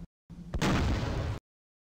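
A missile strike destroys a target in the game Terminator: Dark Fate - Defiance, heard as a short rising whoosh followed by one loud, close, roaring blast that cuts off abruptly after about a second.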